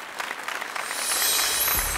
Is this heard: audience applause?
yes